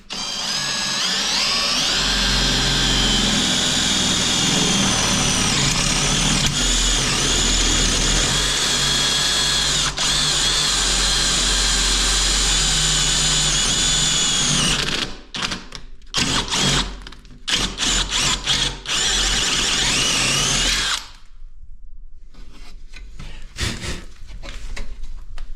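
A 6 mm drill bit bores a hole behind a bathroom mirror for a lamp wire, with a loud steady whine for about fifteen seconds, then short stop-start bursts and brief pauses.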